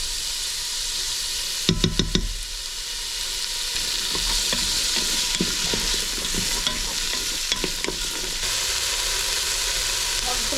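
Onion, carrots and celery sizzling as they sauté in a Ninja 11-in-1 cooker, a steady frying hiss with a few sharp stirring clatters and scrapes, no talking.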